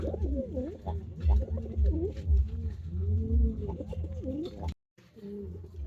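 Fancy pigeons, including an exhibition-quality cock bird, coo in a rolling, repeated pattern at a loft sale, loud and close, with a brief break near the end.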